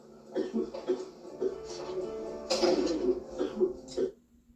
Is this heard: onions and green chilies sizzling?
no